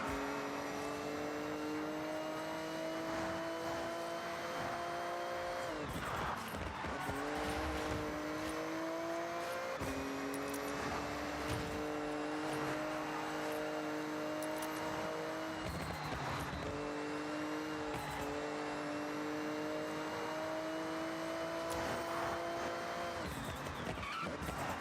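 A racing car in Forza Horizon 6 drives at high speed, its engine droning steadily with rising revs, gear shifts and tire squeals, loud and continuous.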